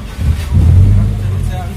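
A Suzuki Katana running on gas fuel cranks and its engine catches, settling into a low, close rumble that swells briefly and then holds steady for under two seconds.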